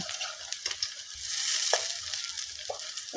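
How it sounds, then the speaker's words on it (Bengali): Rice, lentil and Malabar spinach fritters frying in hot oil, a steady close sizzle with occasional sharper crackles and soft scrapes as they are turned, no talking. "এইভাবে উল্টে পাল্টে আমি বড়াগুলোকে ভেজে নিব।"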